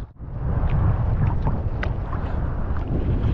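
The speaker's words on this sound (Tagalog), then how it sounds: "lumakas na yung hangin, tapos lumakas na rin yung alon" Strong wind roars into the microphone at sea off Tablas Island, Romblon, aboard a fishing boat, a loud, constant low rumble with splashing and buffeting from rising waves throughout.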